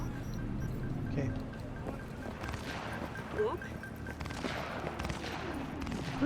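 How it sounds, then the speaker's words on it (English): Gunfire in the video game Cyberpunk 2077 on hard difficulty, a dense ongoing fusillade of shots and bursts mixed with game ambience and effects, moderately loud and continuous throughout. "There's a lot of gunfire going off."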